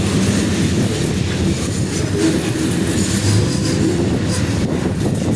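A freight train rolls along the rails with a loud, continuous rumble and clatter of wheels, heard up close, with faint squeals over the steady roar.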